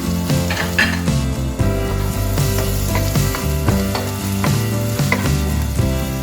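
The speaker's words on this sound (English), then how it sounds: "when the onions are frying." Onions frying in a pan with salt, giving a steady, close sizzle that runs throughout alongside a prominent tonal background, with no talking.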